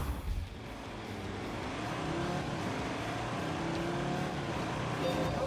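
Several cars in The Grand Tour video game set off together in different directions, giving a rising blend of engine roar and acceleration that grows steadily louder, with tire noise mixed in.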